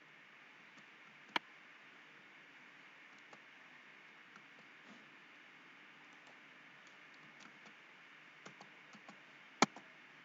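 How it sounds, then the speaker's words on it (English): Faint, sparse clicks of keys on a computer keyboard as a search term is entered, with two sharper taps standing out against a quiet hiss. "So I type the name of image in the search box."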